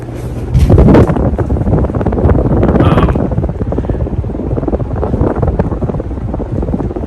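A 52-inch Hunter ceiling fan, a 1930s original design in Hunter Green, running on high, giving a loud, steady rush of moving air that buffets the microphone close by.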